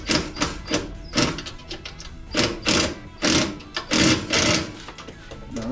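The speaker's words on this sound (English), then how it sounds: "Now this is an old impact, so don't get worried about me putting too much force on it." Old impact wrench hammering on a bolt during a snowblower engine swap: a rapid, loud, buzzing rattle in repeated uneven bursts, close up and without talk.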